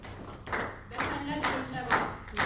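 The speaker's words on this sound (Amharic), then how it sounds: "በታላቅ ጭብጨባ" Scattered hand clapping from an audience as a guest speaker is invited onto the stage, a few uneven claps mixed with voices speaking over them, moderately near.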